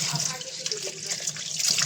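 Tap water running steadily into a sink while vegetables are washed, a close continuous splashing stream with faint background voices.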